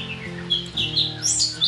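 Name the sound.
white-rumped shama (murai batu) bird chirping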